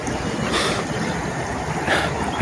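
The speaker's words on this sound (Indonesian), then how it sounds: "sungai ini begitu deras." A deep, fast-flowing river rushes past in a broad, loud wash of water noise that swells in gusts, with no voices heard.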